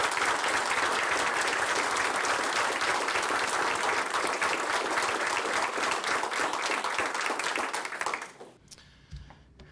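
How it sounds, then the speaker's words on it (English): A room of family, colleagues and guests at a police sergeant's retirement reception claps loudly and steadily for about eight seconds, then fades quickly to a few scattered claps. "Would you give them a round of applause?"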